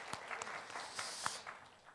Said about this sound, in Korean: 박수 한번 서로에게 하도록 하겠습니다